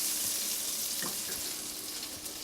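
Chicken marsala frying in a pan being tossed, a faint, steady hiss of sizzling with soft clinks of the pan.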